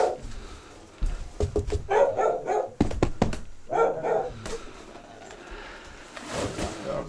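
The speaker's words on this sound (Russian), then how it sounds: "Собака дома." A dog barks in short bursts at a village house where a fisherman lives, a few sharp barks and yips with whimpers between them, at moderate distance in cold outdoor air.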